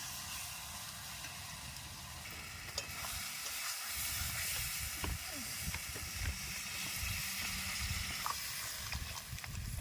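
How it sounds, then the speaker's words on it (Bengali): A pot of catfish curry with half-cooked potatoes hisses and sizzles steadily as water goes in, with a brief stirring clatter partway through; the bubbling and steam noise stays fairly constant and close, with no talking. "আলুটা প্রায় হাফ সিদ্ধ হয়ে গেছে, আর এর মধ্যে জল দিয়ে দেব।"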